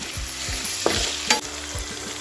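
Tindora (ivy gourd) fries in a pan with a steady sizzle and rhythmic stirring scrapes, punctuated by two sharper spatula knocks, with no talking.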